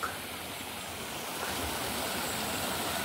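A stream of natural drinking water at Buhay-Buhay, Barangay Basak, Magpit, North Cotabato, flowing as a steady broadband rush that stays even throughout, with no talking.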